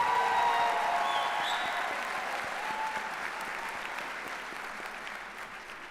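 Applause from the audience at a charter school graduation ceremony, a broad burst of clapping that starts full and gradually thins, with a few whoops and cheers near the start.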